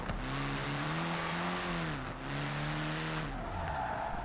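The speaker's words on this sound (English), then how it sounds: "Long e-brake grab" A car in the racing game Forza Horizon 4 skids on a long e-brake grab through city streets during a gymkhana run, its engine droning and tires squealing loudly and continuously, with a brief dip midway.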